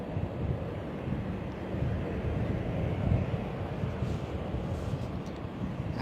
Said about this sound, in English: the little Citation has made its way down to the end of the runway and is off